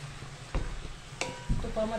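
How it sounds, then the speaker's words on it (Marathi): Bottle gourd roasting in ghee in a pan makes a soft sizzle, broken by a few sharp scrapes and clatters of stirring, with a brief voice in the background. "आपण आता हा दुधी भाजून घेणार आहे चांगला असा तुपामध्ये"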